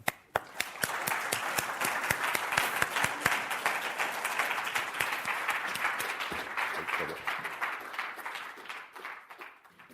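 An audience breaks into sustained applause to welcome Steve Reicher, a speaker at a talk on the psychology of authoritarian populism. Dense, steady clapping from a large crowd fills the room for the full stretch, starting with a few sharp claps and fading slightly at the end.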